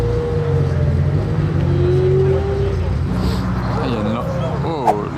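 Sports cars, including a Lamborghini Gallardo and a Porsche GT3 RS, accelerate along a Paris street. A loud, close, continuous engine drone rises in pitch, and someone speaks French over it.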